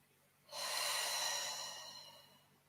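A single deep, slow breath during a calming yoga relaxation, heard close and fairly loud. It swells to a long, airy exhale that gradually fades.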